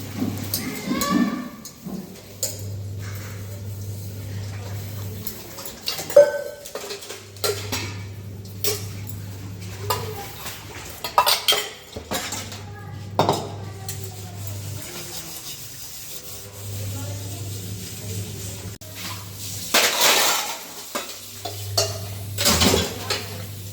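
Dishes, pots and utensils are scrubbed and clattered by hand at home, with steady rubbing, scraping and frequent metallic clinks over a constant low hum, with occasional talk.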